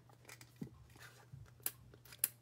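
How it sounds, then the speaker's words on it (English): Cardstock cut with a paper punch amid crafting handling: soft rustles and clicks, then two sharp, crisp snaps of the punch close by in a quiet room. "so I'm going to put that in and cut it with the punch."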